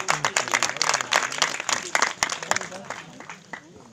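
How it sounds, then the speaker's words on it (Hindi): At a village inter college prize distribution in Almora, the crowd claps in a lively, uneven burst that fades toward the end, with people speaking over the applause. "तालियां बजाओ"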